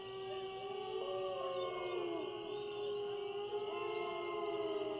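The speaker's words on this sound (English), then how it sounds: "Are those the ghost dogs?" Ghost dogs howl in the video game Nancy Drew: Ghost Dogs of Moon Lake, with several long, overlapping, wavering howls that rise and fall over a steady, hushed background for the whole stretch.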